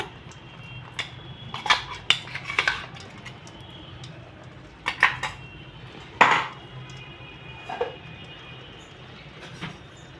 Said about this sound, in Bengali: এবার এটাকে ভালো করে নাড়িয়ে নিচ্ছি